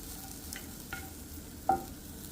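Granola is stirred in a skillet, giving a faint sizzle under a few soft scraping strokes and one brief sharper clink, quiet and close with no talking.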